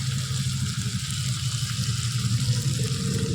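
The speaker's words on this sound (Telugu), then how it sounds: "ఇప్పుడు నేను వచ్చేసి వాటర్ దీంట్లో క్లీన్ చేసుకున్నాను" Water runs steadily into a cooking pan being rinsed out while making a spicy gongura chicken gravy curry, a close, continuous splashing pour with no break.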